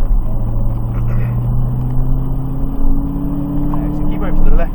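A Dodge Challenger Hellcat accelerating as the throttle is squeezed back on, a heavy, close engine drone climbing steadily in pitch beneath continuous speech from inside the car.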